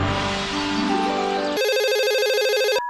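A telephone rings close and loud, first a rich chiming tone, then a bright electronic trilling ring that cuts off abruptly after about three seconds.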